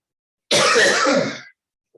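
A single rough throat-clearing cough, close and loud, lasting about a second before silence.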